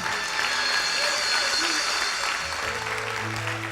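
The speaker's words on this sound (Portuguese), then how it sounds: "Você pode aplaudir Jesus bem forte?" Congregation applauding during a church service, a dense, steady wash of clapping filling the room from start to finish, with some low voices mixed underneath.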